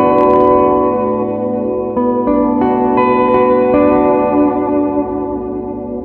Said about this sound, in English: Every guitar I get, it has to have a great clean sound.